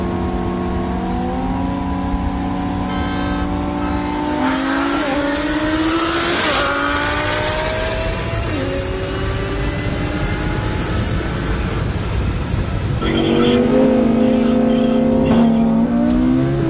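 A twin-turbo Lamborghini Huracan accelerating hard on the street, loud close engine revs climbing through several gears with sharp shift breaks, the roar rising again after each change for a sustained run, no voices.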